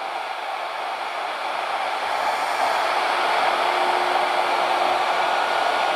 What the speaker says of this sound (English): I'm going to cut our circular portion of the tenon.